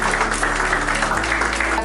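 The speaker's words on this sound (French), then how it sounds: "j'aimerais premièrement qu'on vous applaudisse tous, les organisateurs, les bénévoles." Festival audience applauding the organisers and volunteers at a Canadian film festival in Châteauguay, a dense, steady wash of clapping filling the whole stretch with no voices over it.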